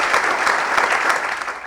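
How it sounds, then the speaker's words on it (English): Applause from an audience at a program launch event, steady dense hand clapping filling the whole stretch at a fairly loud, even level with no talk over it. "Let's give the Lord a big hand clap for that."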